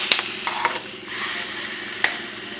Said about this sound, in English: Just brown the pork on both sides first.